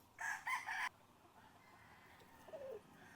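A white Kelso broodcock rooster crows once, loud and close, its harsh harmonic call running just under a second, followed by quieter farmyard ambience and a faint, brief bird chirp near the end.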